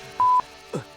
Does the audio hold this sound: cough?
no